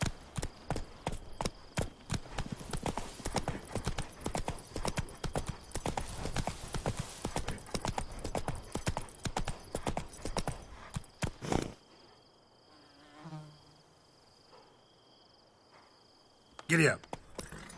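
Roach the horse's hooves clip-clop in rapid, even rhythm in The Witcher 3, loud and close for about twelve seconds, then stop, leaving quieter ambience and a brief clatter.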